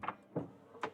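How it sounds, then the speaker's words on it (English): Electric doors on an AVATR 11 car give three short, soft mechanical whirs or clicks spaced roughly evenly apart, quiet and close. "I can open all the doors because it's electrical doors."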